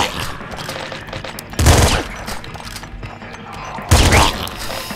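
Shotgun blasts in the Nuclear Throne video game, two loud sharp bursts a couple of seconds apart over continuous game noise.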